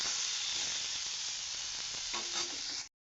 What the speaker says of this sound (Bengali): এখানে পাঁচ ফোড়ন আর লঙ্কা দিয়ে পেঁপেটা বসিয়ে দিয়েছি